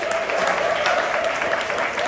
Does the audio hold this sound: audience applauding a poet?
yes